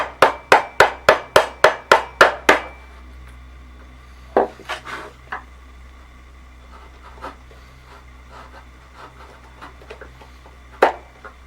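A quick run of about nine evenly spaced wooden knocks as a wood chisel is hammered, then scattered lighter taps and scraping as the chisel cleans out the cut.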